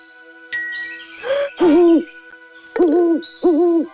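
A cartoonish owl hoots in the Carmen Sandiego video game, a series of bright, wavering synthesized hoots arriving in three bursts, with a soft chime before them.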